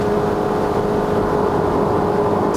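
Honda Shuttle 1.5L i-VTEC wagon with CVT held high in the rev range, a steady loud engine whine and drone with a constant pitch, heard from inside the cabin, no talk.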